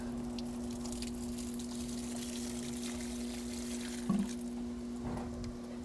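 Leftover pool water trickles and dribbles out of a hose during cleaning of a Hayward salt cell, a soft continuous pour over a steady low hum, with a brief splash midway.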